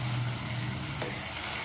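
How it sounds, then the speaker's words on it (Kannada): Tomatoes for a tomato masala chutney frying in a pan with salt over a low flame: a continuous, close, even sizzle with a faint low hum beneath, no voices. "ನೋಡಿ, ಟೊಮೆಟೊ ಎಲ್ಲ ಚೆನ್ನಾಗಿ ಫ್ರೈ ಆಗಿದೆ"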